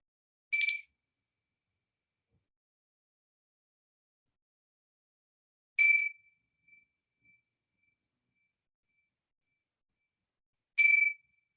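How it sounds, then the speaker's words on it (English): A meditation gong or bell is struck three times, widely spaced, each a bright ringing strike that decays quickly, with faint echoes after the second, in otherwise near silence. "Following the sounds of the gong."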